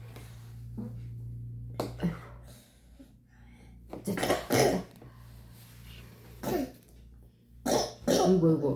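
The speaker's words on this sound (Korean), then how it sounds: "기침이 나와" A child gives several harsh coughs in separate bursts, close by, while eating strawberries, with quiet pauses and a steady low hum between them.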